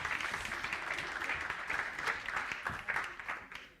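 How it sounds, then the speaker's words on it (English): Audience applause at a student TV awards ceremony in London, a dense sustained wash of many hands clapping throughout, fairly loud and even with small swells. "Give them a massive round of applause."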